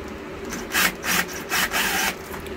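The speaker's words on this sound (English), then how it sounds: "Just undoing all the clamps." Hose clamps being undone on a Mercruiser 5.7 engine in a 1997 Maxum 2300SC cuddy cabin boat, giving four close, rough scraping bursts of metal working against metal, each about a quarter second long, evenly spaced, with no talk.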